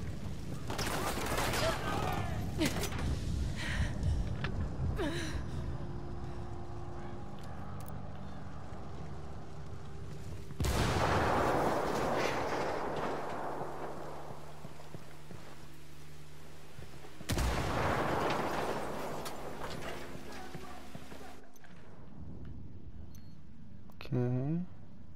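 Gunfire from a firefight in Ghost Recon Wildlands crackles in irregular bursts, with sharp louder volleys breaking through a steady background of shots while a voice talks over the action.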